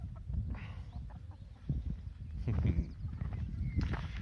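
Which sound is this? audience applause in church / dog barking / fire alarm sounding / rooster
rooster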